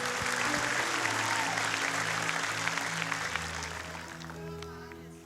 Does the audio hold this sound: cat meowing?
no